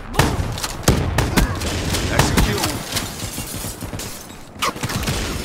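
SMG fire in the Black Ops 3 beta, a loud, dense stream of rapid shots with a few sharper cracks and brief gaps, sustained across the whole stretch.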